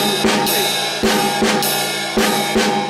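Drum kit groove with steady ride cymbal hits and sharp snare strikes repeating in a short cycle, loud and close.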